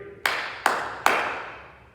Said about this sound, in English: 3 claps on me